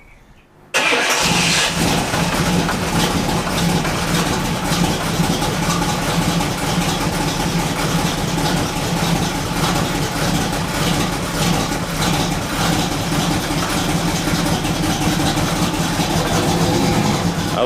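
A 1938 custom Ford hot rod pickup engine catches after a brief quiet moment and then idles loudly and steadily with a lopey, rumbling rhythm, close by and with no talking.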